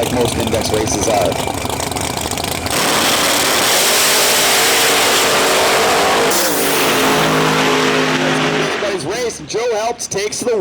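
Drag race cars launch and roar down the strip at a street-class index race, loud engine noise dominating, with a shift in pitch as they pull away and an announcer's voice over the racing.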